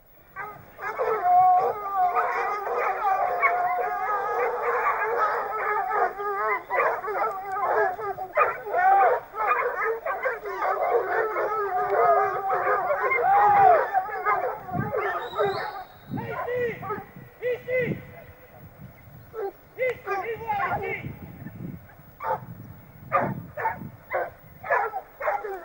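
A pack of hunting hounds bays while chasing a hare, a dense overlapping chorus of howling cries that later breaks into scattered separate yelps and barks, loud and fairly close.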